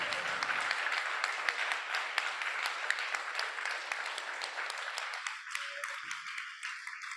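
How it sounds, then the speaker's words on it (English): An audience at an anniversary gathering breaks into a warm round of applause, dense clapping that holds steady and then thins out and fades near the end. "give these young people a huge round of applause"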